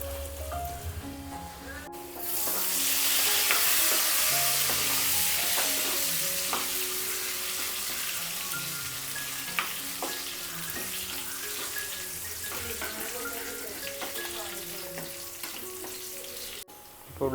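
Onions and a pinch of fenugreek seeds fry in hot oil, a loud continuous sizzle that swells early and holds steady, with occasional scrapes of stirring and soft background music underneath.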